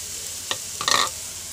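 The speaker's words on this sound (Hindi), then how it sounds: "अब इसमें हम चिकन ऐड कर देंगे।" Chicken drops into a hot pan of frying chillies with a steady sizzle, broken by a couple of short scraping stirs, close and alone without any voices.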